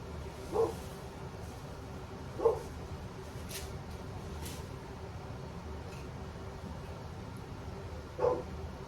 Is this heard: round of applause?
no